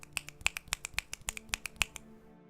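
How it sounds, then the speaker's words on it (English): About a dozen crisp finger snaps ring out close and clear in an uneven rhythm, alone with no talking, before a sudden quiet. "The clapping's so loud, people are asking you to reduce it to snaps."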